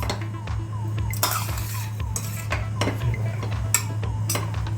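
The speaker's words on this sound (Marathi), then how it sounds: "आपण मिक्स करूया आणि सर्विंग बाउलमध्ये काढून घेऊया" Spoon scraping and clinking against a pot as Maharashtrian masale bhat, a spiced rice made without onion or garlic, is mixed and served into a bowl. Repeated light clinks and scrapes over a steady low hum, with no talking.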